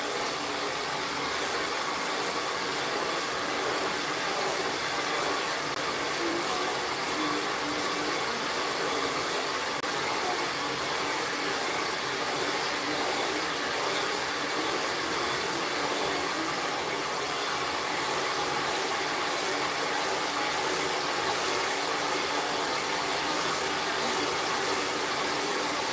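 A hair dryer blows steadily through a long blowout in a hair salon, its loud, even whoosh continuing without a break and with no talk over it.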